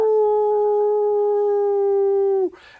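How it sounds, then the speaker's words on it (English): A single long, loud wolf howl held steady and close for over two seconds, then dropping off sharply at the end, followed by a brief rustling noise; a sound-effect cue of baying wolves. "all of you can now hear dozens of baying wolves"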